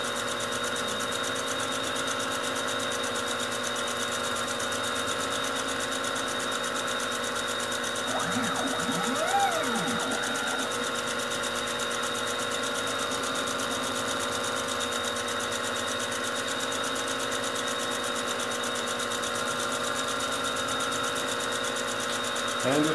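A gear-cutting setup working like a lathe starts its first cut into a round metal gear blank, giving a steady, loud mechanical drone with a brief grinding swell midway as the cutter bites.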